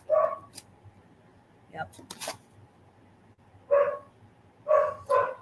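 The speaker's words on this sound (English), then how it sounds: "I wish I had a mute on these dogs." Dogs bark in short, separate bursts, a few sharp yips and woofs spaced apart in a quiet room at night, with a brief spoken word among them.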